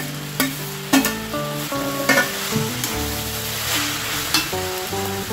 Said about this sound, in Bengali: কড়াইশুঁটি দিয়ে আমি ভালো করে বাঁধাকপির সাথে মিশিয়ে নেব।